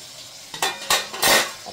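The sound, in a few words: cooking curry in a pot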